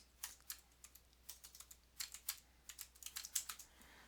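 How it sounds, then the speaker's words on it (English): Typing on a computer keyboard while entering a field name into a database table: a steady run of quick, close, crisp key clicks with uneven rhythm, no voices. "we're going to type in patient ID as the first field name in the table."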